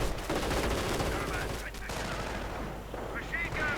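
Hummel self-propelled artillery firing in a real-time strategy battle, with dense continuous gunfire and heavy machine-gun bursts throughout and brief voice fragments mixed into the battle noise.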